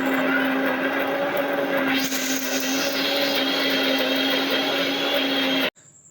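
Kitchen mixer grinder whirring steadily as it grinds garlic, a loud constant motor whine with churning texture that cuts off abruptly near the end.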